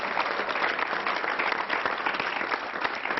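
A poetry recital audience claps steadily and loudly throughout at a Kavi Sammelan, a Hindi poetry gathering, as a broadband wash of many hands that rises and falls slightly without pause.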